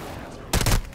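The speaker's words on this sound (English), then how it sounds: "They're shooting at me." A short burst of rapid gunfire in a first-person shooter, loud and close, a quick cluster of shots after a moment of quieter background.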